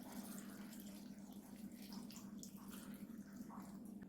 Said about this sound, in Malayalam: ഇനി ഇതിലേക്ക് നമുക്ക് വേവാൻ ആവശ്യമായ വെള്ളം ഒഴിച്ചു കൊടുക്കാം